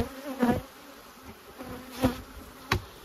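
Honey bees buzzing around a hive during a mid-season split: a steady close drone of many wings, with individual bees swelling loudly past the listener several times.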